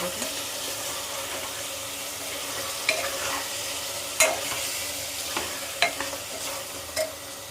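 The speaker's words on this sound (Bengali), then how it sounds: "আর আমি কিছুটা নেড়ে দেবো মাংসটা" Mutton frying in oil in a pot for a papaya mutton curry, stirred with a steady soft sizzle and occasional sharp spoon scrapes and knocks against the metal.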